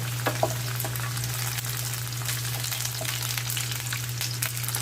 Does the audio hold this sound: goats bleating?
no